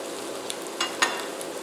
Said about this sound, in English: give them a good saute